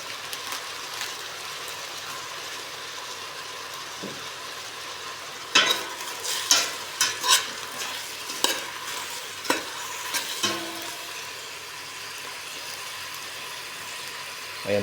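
Shrimp and mixed vegetables sautéed in a pan, a steady sizzle throughout with a run of sharper clattering stirs and scrapes in the middle, close and fairly loud, no voices.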